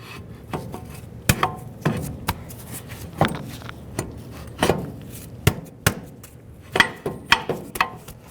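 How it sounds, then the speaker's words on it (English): Metallic clicks and knocks ring out irregularly, close up, as a brake caliper is fitted onto a 2003–2011 Mercury Grand Marquis, about a dozen sharp taps and clunks over a low background hiss. "Install your brake caliper"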